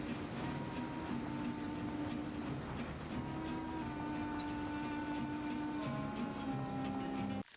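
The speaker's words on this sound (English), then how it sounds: "We'll take the train." A train rolling along rails in the Mafia video game, a continuous steady rumble with rhythmic clicking of wheels and faint tonal hum, ending abruptly.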